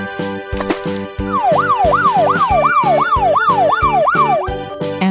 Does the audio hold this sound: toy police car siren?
yes